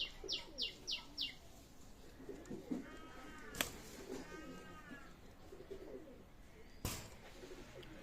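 Pakistani pigeons kept for sale chirp and coo faintly in a loose series of short calls over low background noise, with two sharp clicks partway through.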